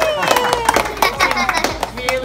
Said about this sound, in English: can we have a round of applause for Kate and